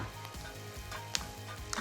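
Fresh thyme sprigs and rosemary frying in a pan, a faint steady sizzle with a couple of small clicks and no voices.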